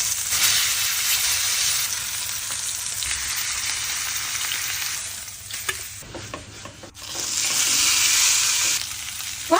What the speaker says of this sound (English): Pan-fry beef short ribs.